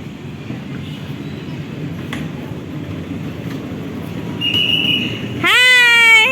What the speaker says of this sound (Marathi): आता ट्रेन चालू होणार आहे